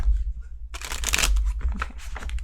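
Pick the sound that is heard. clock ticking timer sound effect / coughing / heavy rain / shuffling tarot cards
shuffling tarot cards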